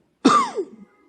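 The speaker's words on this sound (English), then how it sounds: "I coughed" A single short throat-clearing cough from an adult man, close and dry, over in under a second.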